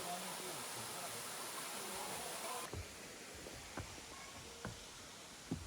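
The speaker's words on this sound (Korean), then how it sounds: "시원한 물줄기가 매력적인 폭포인데요" The Paraeso waterfall in the Ulsan mountains pours in a steady, loud broadband rush when heard from the viewing deck. Partway through, it cuts off abruptly to a quieter outdoor scene with a few sharp knocks and faint voices.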